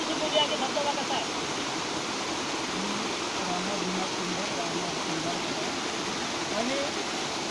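A village waterfall near Korpana, Chandrapur, roars as a steady broadband rush throughout, close and continuous with no break.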